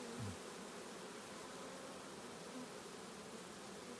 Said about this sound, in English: What a huge swarm.